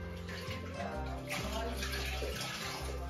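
A cleaning cloth being rinsed in water during furniture cleaning, a continuous close splashing and sloshing with gurgling swirls, loud and steady throughout, no talk.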